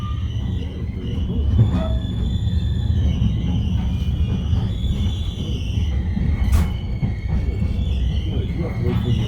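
A Reading & Northern Railroad passenger train rolls along with a continuous loud low rumble of wheels on track, faint squeals and tonal whines overhead, and a sharp metallic click partway through.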